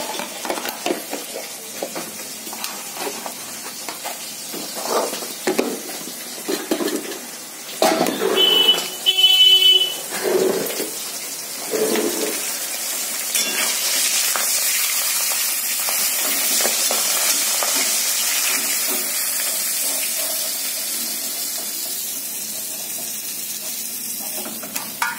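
Fish fries in hot oil in a home kitchen. Scattered clinks and a bright metallic chime come first, then a continuous loud sizzle settles in and carries to the end.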